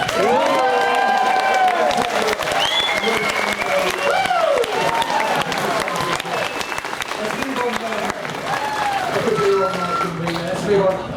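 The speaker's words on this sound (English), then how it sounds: "keep that applause going" Sustained applause and cheering from a large crowd at a 2017 World Superbike paddock show at Donington, loud and continuous, with voices and whistles rising over the clapping throughout.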